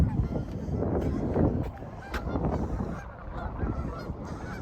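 Geese honk repeatedly at a patch of open water on a city lake, a dense flock calling over a broad outdoor rumble before dawn in winter; a voice speaks faintly among them.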